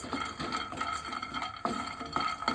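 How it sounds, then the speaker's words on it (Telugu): Cashews and peanuts are stirred with a utensil in a hot pan, with scraping and clinking strokes in a steady rhythm over a faint sizzle of frying oil, close and fairly quiet. "జీడిపప్పులు కూడా కొంచెం ఫ్రై చేసుకోవాలి"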